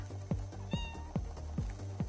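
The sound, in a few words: cat meowing in a video game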